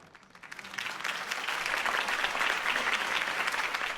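A crowd applauds after a political campaign speech in the Batman Telltale Series video game, with clapping that swells quickly and holds as a dense, steady roar.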